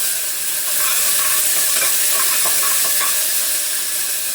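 Onion, bay leaf and tomato sizzling in hot oil in an Indian home kitchen, a loud, steady hiss with faint stirring ticks and no talk.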